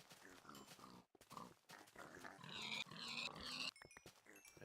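Pigs oink and grunt in the video game Minecraft, several short snorting calls in quick succession, fairly close and alone with no talking.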